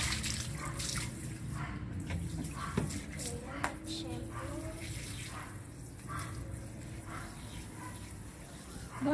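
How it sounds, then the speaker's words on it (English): A garden hose runs steadily during an outdoor dog wash, a continuous rushing and splashing of water that holds through the whole stretch, with a few brief knocks over it. "Put some water here, Novi, in the neck."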